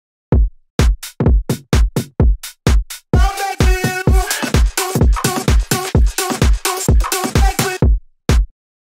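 Remix section built on a punchy drum groove with a chopped vocal layer entering after the first few seconds, steady rhythmic hits carrying a dense, loud electronic mix with no talking.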